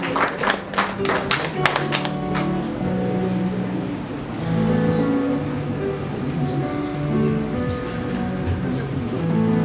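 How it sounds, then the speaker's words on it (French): Hands clapping at a funeral gathering, several rapid claps near the start, then a sustained musical backdrop with singing or talk continuing underneath. "We need to clap your hands for God."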